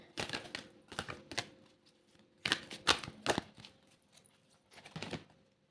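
Tarot cards being shuffled, heard as soft papery riffles and taps in short irregular bursts, close and quiet in an otherwise still room.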